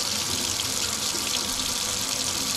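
Hot water pours steadily from a tap in a continuous, close hiss and splash with no break, and no voices are heard.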